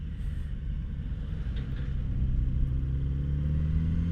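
A 2019 Kawasaki Z900RS Cafe motorcycle engine burbles steadily at low rumble while riding, a continuous deep throb that swells slightly louder midway through.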